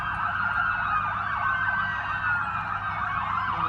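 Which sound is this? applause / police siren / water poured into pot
police siren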